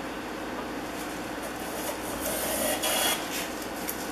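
A modern USA-made Stanley No. 75 bullnose rabbet plane with its throat opened wider shaves wood in close, scraping rasps, building to a few louder swishing strokes toward the end, with no talk.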